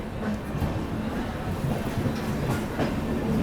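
The Pinakini Express rolls out of Vijayawada railway station, a steady loud rumble of carriages with faint clicking of wheels over rail joints throughout.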